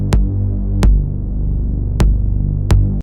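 A gritty synthesizer bass built from stacked oscillators drones loud and low with a throbbing, phasing buzz, punctuated by four sharp clicks at the note retriggers, alone with no voice.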